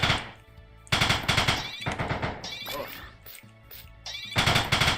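Rapid bursts of sniper gunfire from a zombie shooter video game under development, loud clattering volleys separated by brief quieter gaps, with a voice talking between the bursts.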